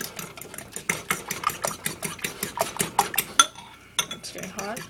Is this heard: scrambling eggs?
yes